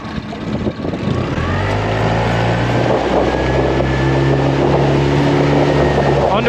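A new outboard motor pushes a boat carrying dogs at half throttle, its engine note rising in pitch as the boat accelerates toward planing, loud and close with a steady droning roar.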